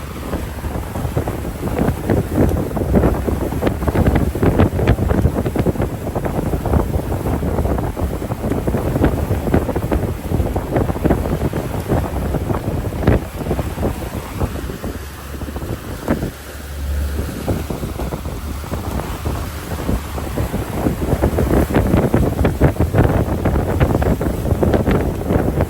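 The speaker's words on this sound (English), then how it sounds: "Now the wind is drifting to my back, so that should be a little bit quieter." Wind buffets a microphone aboard a deep sea fishing boat off Kona, Hawaii, a loud, continuous rumbling roar that swells and eases over time, with faint boat and water noise beneath and no talk.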